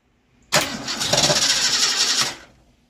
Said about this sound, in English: Before we put this thing on the ground, we're going to fire it up and listen to it.